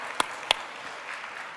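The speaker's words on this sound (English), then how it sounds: "Nice round of applause for them." Applause from a conference audience for panel speakers at the FII Institute anniversary event, a couple of sharp close claps over a soft, steady wash of distant clapping.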